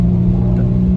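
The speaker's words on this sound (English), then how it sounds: "at the motor, when I rev it up," A Dodge Dart engine revving, a loud, close, steady low drone held for about a second with no talking.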